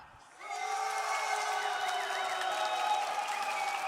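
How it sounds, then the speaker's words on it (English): A large esports arena crowd at the Six Jönköping Major semi-finals bursts into loud, sustained applause and cheering after a brief quiet moment, with tonal music or horns ringing through the roar. "I know this crowd wants to make some noise for Liquid and Palu right now."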